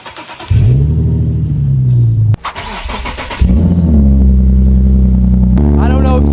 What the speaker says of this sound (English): it's a pretty loud exhaust. It shakes everything.